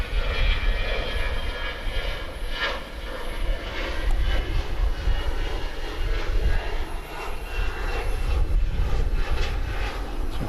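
A Qantas Boeing 787-9 Dreamliner jet roars at DFW airport at night. The rumble is loud, continuous and broad, with a deep low-end throb and no voices over it.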